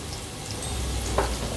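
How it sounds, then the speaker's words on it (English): Ginger and dry ingredients fry in a pan for chicken pasta, giving a steady close sizzle that runs unbroken through the moment, with a brief brighter crackle near the end. "I'm going to fry this for a minute"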